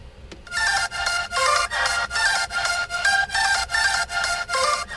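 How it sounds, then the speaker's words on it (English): After a brief click, a bright synth lead plays a rhythmic run of repeated notes whose pitch bends and slides between them, loud with no talking. "But with the pitch bends, it sounds like this."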